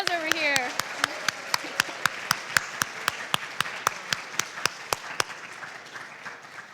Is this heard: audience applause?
yes